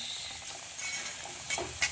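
Potatoes fry in homemade mustard oil in a pan, giving a soft steady sizzle with faint stirring and a few light utensil clicks near the end.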